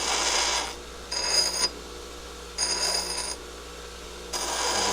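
A Baldor bench grinder deburrs metal on the side of its wheel, a steady motor whine broken by three bright, grinding bursts of one to two seconds as the workpiece touches.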